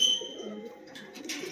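Pigeons coo softly in a loft in Nagercoil, a short, low, muffled burble that sits close and faint, with no speech over it.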